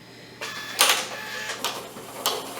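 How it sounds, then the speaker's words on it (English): A sewing machine stitches back and forth over a quilted potholder in short mechanical bursts, whirring on and off several times with brief pauses, close by and with no talking. "I'm going to sew back and forth over it, probably twice"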